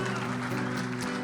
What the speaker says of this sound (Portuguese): Você pode aplaudir ao Rei dos Reis e Senhor dos Senhores.